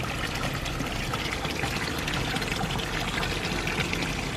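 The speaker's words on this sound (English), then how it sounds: "turn the air diffuser thing, whatever it is, pointing that way now, so the bubble's not coming into this corner" An aquarium air diffuser bubbles steadily in water, giving a dense, continuous, close fizzing and gurgling wash with no talk over it.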